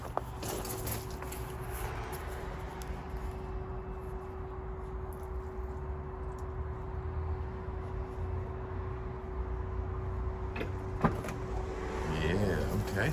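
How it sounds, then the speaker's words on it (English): A car's automatic rear hatch runs with a steady electric motor whine, humming continuously for several seconds against outdoor background noise, with a clunk near the end as the hatch finishes its travel. "Automatic hatch in the back for you."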